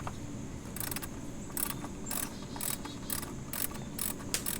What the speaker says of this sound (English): 10mm ratchet to remove these hose clamps